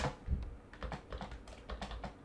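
A computer keyboard is tapped in a quick, uneven burst of close, crisp clicks while a video is edited, with no voices heard.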